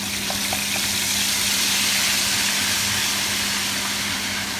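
Steady, bright sizzling of garlic frying in hot olive oil, continuous and close, with faint clinks early on and no talking.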